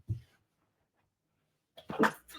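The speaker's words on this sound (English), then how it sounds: "I'm going to sneeze." A person sneezes once, a short close burst after a brief faint breath, following a quiet pause, with no talking during it.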